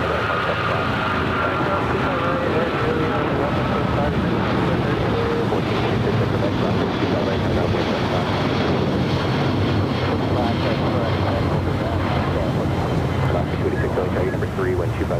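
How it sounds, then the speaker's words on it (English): An American Airlines Boeing 777 takes off at Los Angeles International, its broad engine roar steady and loud for the whole stretch, mixed with gusty wind buffeting the microphone and a voice talking over it. "American 777 now taking off"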